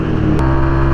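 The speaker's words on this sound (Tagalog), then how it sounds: "Malaking truck yan" A big, heavily loaded truck passes close by, giving a loud, low engine rumble with a sudden shift in pitch partway through and a short burst of hiss.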